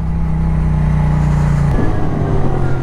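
A Moto Guzzi V7 Racer motorcycle engine runs loud and close in a steady throbbing drone, and its note drops and roughens partway through.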